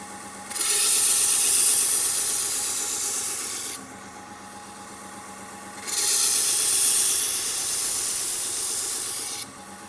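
Two long stretches of abrasive, hissing sanding on wood, each several seconds, separated by a quieter pause with faint background noise.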